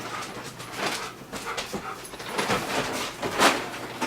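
A dog playing fetch with a ball pants, whimpers and yips close by in uneven bursts, with scuffling movement between sounds.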